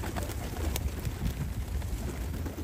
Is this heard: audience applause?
no